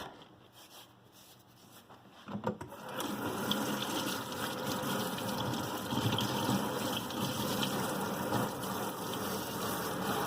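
Tap water running over hands to rinse off a body polish at a sink, a soft start and then a steady close rush of flowing and splashing water that continues to the end, with no talk.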